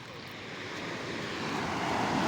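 Large storm-driven sea waves roll onto the shore at a fishport in Tanza, Cavite, a continuous broad roar that builds slightly over about two seconds. No one speaks.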